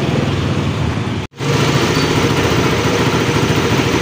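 A carbureted Suzuki Raider 150 motorcycle engine runs steadily after a top overhaul, a loud close idle with a rapid even pulse, cut by a brief silent gap before resuming.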